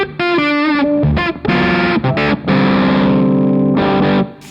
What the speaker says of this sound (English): it can also sound cool going quite low on the gain in the muff mode